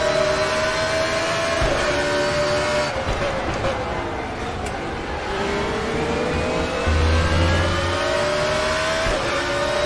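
Race car engine in the sim racing game RaceRoom Racing Experience, revving and shifting loudly and continuously through gears with whining pitch sweeps, while someone talks over it.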